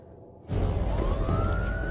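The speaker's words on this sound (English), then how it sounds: "I could hear the sirens" A loud police siren wails in after a short lull, its rising tone sweeping over heavy rumbling noise, close and continuous.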